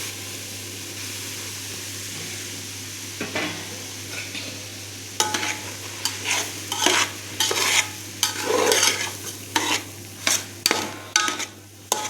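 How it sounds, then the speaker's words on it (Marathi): Semolina (rava) roasting in hot ghee, stirred with a spoon: a low steady sizzle at first, then repeated close scraping and clinking strokes against the pan in an uneven rhythm. "आता हे तूप गरम झालेलं आहे ह्याच्यामध्ये आपण रवा टाकून घेऊया"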